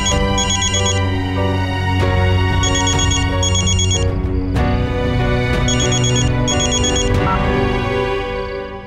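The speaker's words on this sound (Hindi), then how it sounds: "फोन उठा लो, वरना वो लोग बेकार में ही परेशान हो जाएंगे।" A loud electronic ringtone repeats its bright chiming pattern several times over a dense musical backing.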